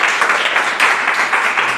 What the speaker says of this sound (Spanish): Demos un aplauso al Señor por esta linda palabra.